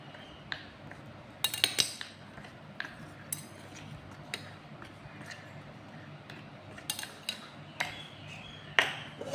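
Rice flour being mixed with oil in a bowl, heard as faint scraping with scattered sharp clinks of a utensil against the bowl, quiet and close.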